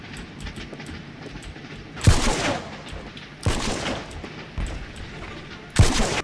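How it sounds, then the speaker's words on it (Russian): Gunfire in The Mean Greens - Plastic Warfare, a toy-soldier shooter game: three loud, sharp shots or bursts, each with a long decaying tail, ring out against steady busy game noise. "Они жесть как стреляются со снайпы"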